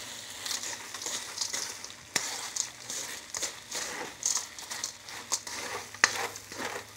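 Taco salad ingredients stirred around in a pan, giving a soft, continuous sizzle and scrape with scattered clinks and taps from the utensil, close and fairly quiet with no talk.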